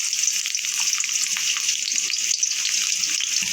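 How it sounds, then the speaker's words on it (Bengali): Chopped onions sizzle in hot oil in a wok, a steady, close, crackling fry that runs throughout with no talking. "পেঁয়াজটা একটু ভালো করে ভেজে নিব।"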